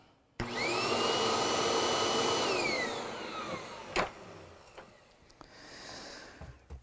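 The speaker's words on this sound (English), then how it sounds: "Sounds like a Hoover Tempo." A Hoover Tempo U5140 WindTunnel upright vacuum cleaner switches on abruptly with a loud whining roar, runs for a few seconds, then winds down, followed by a few faint clicks and thumps.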